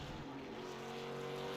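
In a racing simulator, a race truck drives out along the pit road exit with a sustained engine drone that builds slightly, heard faintly with no talk.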